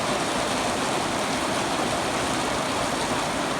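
Outdoor rain falls in a steady, even hiss, loud and close, with no pauses or voices.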